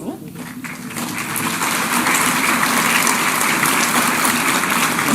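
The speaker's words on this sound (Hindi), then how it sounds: "आप तालियों के माध्यम से शुभकामनाएं हमारे इन नव नियुक्त अनुदेशकों तक पहुंचाएं।" Sustained crowd applause for newly appointed instructors at a government ceremony, dense steady clapping that swells in the first second and stays loud and even to the end.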